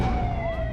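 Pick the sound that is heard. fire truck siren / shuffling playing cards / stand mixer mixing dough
fire truck siren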